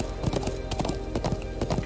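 Horse hooves clip-clop in a steady, busy rhythm while riding in the Trails of Cold Steel video game, with game music or effects underneath and no one speaking.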